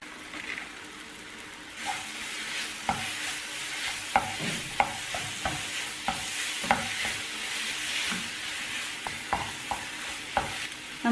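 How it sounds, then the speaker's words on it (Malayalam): Mashed banana mixture with chopped cashews and raisins sautéing in a pan: a soft frying sizzle throughout, with a spoon scraping and stirring in repeated, fairly regular strokes, close by and with no talk. "നന്നായിട്ട് വഴറ്റിയെടുക്കണം."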